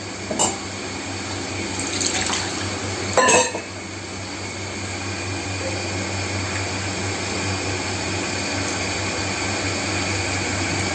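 A steady stream of water pours continuously, close by, while making rasam in a tin-lead pot, with a few sharp clicks and knocks near the start.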